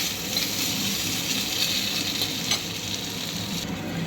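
Potatoes fry in a pan for a potato curry, giving a steady, close sizzle with light stirring throughout and no talking.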